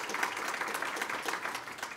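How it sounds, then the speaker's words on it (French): Applause at the closing plenary of a philanthropy conference, with moderately faint crowd clapping that holds steady through the moment. "Oui, gênez-vous pas, vous pouvez applaudir."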